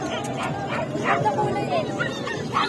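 Dogs at a pet shop bark and yip in short bursts, several sharp barks and whimpers close by, mixed with people talking.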